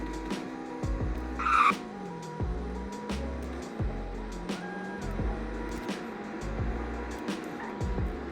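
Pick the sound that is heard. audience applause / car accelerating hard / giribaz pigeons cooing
car accelerating hard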